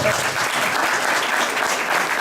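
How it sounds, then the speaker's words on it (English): Audience at a university pitch competition claps loudly and continuously, a thick even wave of applause with no letup. "So please help me clap."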